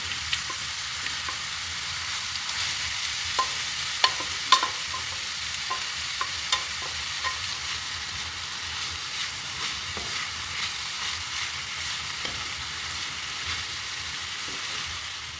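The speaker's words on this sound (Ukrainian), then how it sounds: "Масло вже нагрілось і я відправляю цибульку і морквочку жариться." Chopped onion and carrot fry in hot oil in a pan, giving a steady, close sizzle throughout with scattered light clicks and scrapes of stirring. No one speaks.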